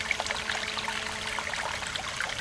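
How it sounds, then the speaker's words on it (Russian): Water poured over a moisture-resistant impregnated fabric fishing bag, the Ideafisher Stakan S-55, trickling and running off in a steady close splashing stream for a couple of seconds. "Основная часть воды просто скатывается, и на сумке, ну вот, чуть-чуть там какие-то капельки."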